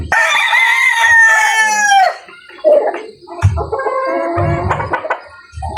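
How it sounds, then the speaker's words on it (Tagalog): A rooster crows loudly and close at the start, then chickens cluck and squawk in short, busy bursts with some scratching and rustling around them, no talk. "So, ayan, ito yung isang mga kamanok."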